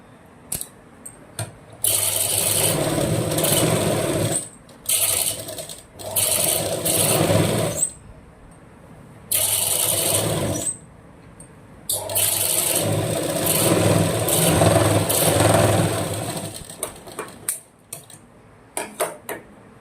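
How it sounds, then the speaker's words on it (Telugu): A sewing machine double stitching a blouse seam runs in several bursts of whirring stitching, separated by short pauses and handling clatter. "సేమ్ ఇటు నుండి డబల్ కుట్టు వేయాలి."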